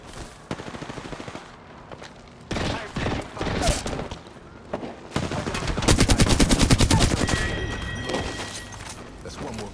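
Rapid automatic gunfire in Apex Legends, loud bursts and sustained volleys of shots stacking up, some near and some more distant, with players talking over the action.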